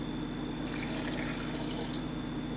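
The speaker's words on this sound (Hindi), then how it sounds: "फिर इसमें आधा कप पानी ऐड करेंगे" Half a cup of water poured into a pressure cooker holding chopped ridge gourd, a steady close splashing trickle lasting a couple of seconds over faint background hum.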